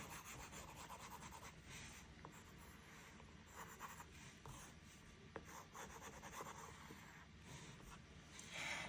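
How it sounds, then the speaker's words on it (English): An eraser rubs back and forth on paper during a coloring session, giving faint, close scratchy strokes in short bursts with brief pauses. "Go in with my eraser and erase all the extra that I don't want."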